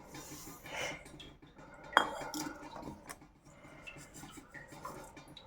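A spoon mixing curd and spices in a bowl, soft scraping and rubbing with a sharp clink partway through, fairly quiet and close.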